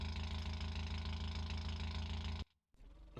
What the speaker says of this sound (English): Oh, the engine sounds a bit crap.